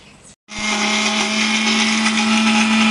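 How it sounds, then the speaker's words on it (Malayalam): A blender grinds a mix of chocolate, peanuts, biscuits, banana and ice cream, a loud, steady whirring motor that starts abruptly after a brief silence and runs continuously with a strong low hum. "ആദ്യം നമുക്കിതിനെ ഒന്ന് നന്നായിട്ട് അരച്ചെടുക്കാം."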